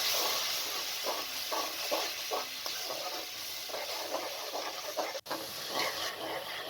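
Spiced masala fries in a pan as ground tomatoes go in, giving a steady, close hiss and sizzle with faint scraping and one sharp click near the end; no voices.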